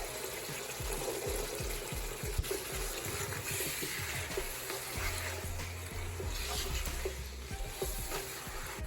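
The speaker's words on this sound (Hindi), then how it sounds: "अब मैं इसमें पानी ऐड करूंगी। 4 गिलास पानी के डालूंगी।" Glasses of water are poured into a pot of browned chickpea and chicken pulao base, giving faint splashing and sizzling with a soft gurgling stream midway, quiet and close in a home kitchen.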